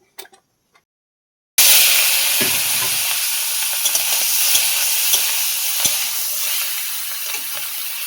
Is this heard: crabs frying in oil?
yes